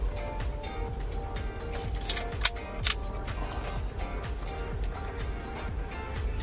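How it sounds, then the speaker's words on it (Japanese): Shutter releases on a Yashica Minister film camera with light value settings, faint mechanical clicks among handling noise, with a couple of sharper snaps near the middle. "ちゃんとシャッター切れてますね"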